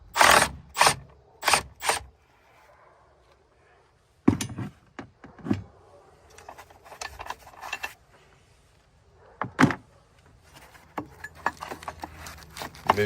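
Ratchet working a 13 mm bolt near the battery area of a VW Tiguan: several quick bursts of clicking near and loud, separated by pauses, with quieter mechanical fiddling between.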